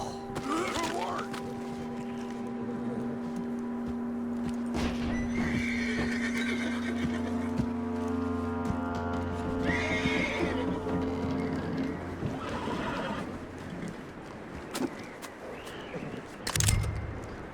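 A horse in Red Dead Redemption 2 whinnies loudly near the start, followed by hooves clip-clopping and snorting over a low hum, with another sharp neigh near the end.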